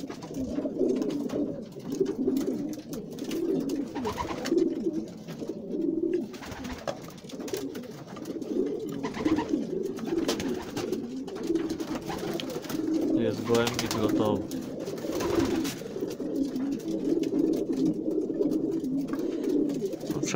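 Pigeons cooing continuously in a loft during pairing season on a cold day, many overlapping throaty coos forming a dense, steady chorus close by.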